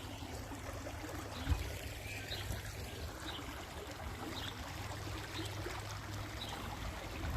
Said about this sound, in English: little bit of stream down the bottom here to get to the other side